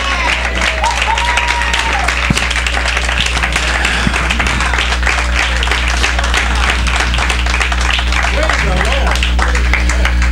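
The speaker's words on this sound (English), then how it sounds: "Let's give both of these young guys a round of applause." Applause from a church congregation greeting two young players from the Penn Quakers, 2017 Ivy League champions, sounds steady and dense throughout, with a constant low hum underneath and some voices mixed in.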